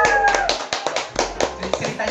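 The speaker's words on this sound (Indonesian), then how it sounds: "Tepuk tangan." A studio podcast audience claps briefly to welcome guests, a quick patter of hand claps mixed with voices talking and calling out over the top throughout.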